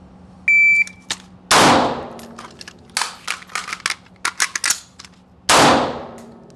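Handgun shots ring out during a combat reload shooting drill: an electronic timer beep, then two sharp, loud shots about four seconds apart, with clattering reload and handling noises between them.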